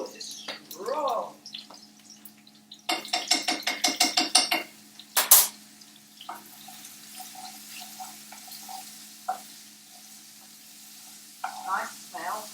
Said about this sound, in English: I'm going to just put a teaspoon of garlic in. Give it a stir.